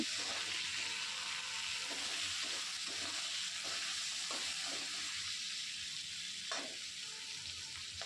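Green chillies and tomato frying in hot oil for a pressure-cooker veg biryani, a steady close sizzle with occasional stirring scrapes throughout.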